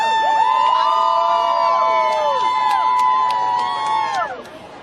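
A huge outdoor crowd cheers as someone heads in to vote. Loud, sustained shrieks and whoops, many rising and falling voices overlapping, swell close by, then ease and drop off near the end.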